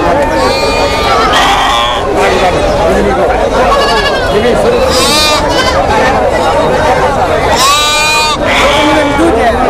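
Goats bleat loudly and repeatedly at a busy village livestock market, several calls overlapping with a chattering crowd and people talking nearby.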